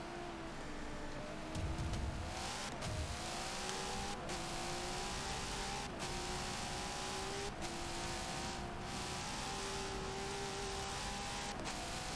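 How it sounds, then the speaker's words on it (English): A V8 Supercar racing game engine drones steadily at high revs, its raspy exhaust note rising through repeated gear shifts, loud and continuous throughout. "I don't know if you noticed the exhaust note. It just sounds a little bit raspier."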